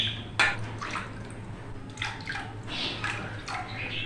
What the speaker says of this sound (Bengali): আমি এখন 4 বাটি জল দিয়ে